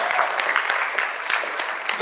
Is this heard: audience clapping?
yes